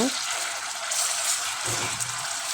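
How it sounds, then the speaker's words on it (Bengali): Ginger paste and garlic paste with spices sautéing in a pan for a chicken curry, giving a steady, close broadband sizzle throughout with a brief low scrape partway through. "তো আমি এখন মশলাগুলো কষিয়ে নিচ্ছি।"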